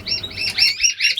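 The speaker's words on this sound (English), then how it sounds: "all of these birds are in the aviary, and they'll get plenty of exercise in there" Fife canaries in an aviary chirp in quick, bright bursts, several short trilling calls following one another closely and clearly, with no voices present.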